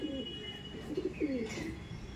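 A male Madrasi pigeon cooing close by, with a few soft, low throaty coos over a steady background hum, no voices.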